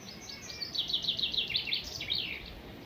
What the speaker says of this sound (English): Listen to that bird.